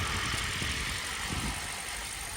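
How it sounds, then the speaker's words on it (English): A Toyota Prius V hybrid engine on a cold start, turning over and settling into a steady, loud idle hum with a slight rough pulse, continuous throughout. "Takes a minute for a hybrid to crank up."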